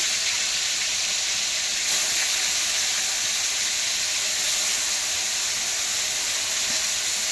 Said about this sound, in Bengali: এখন মাছগুলোকে আমি কড়াই দিয়ে দিচ্ছি